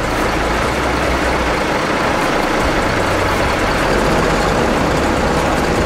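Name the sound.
Haryanto bus idling, preparing to depart terminal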